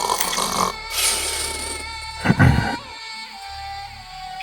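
Snoring from a sleeping character in a D&D podcast, a voice imitating the sound with a couple of drawn-out rasping snores, close and fairly loud, with a short pause between them.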